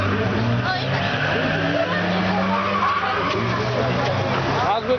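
Race cars at Zestafoni race day drone with steady low engine tones beneath loud announcer speech and crowd babble.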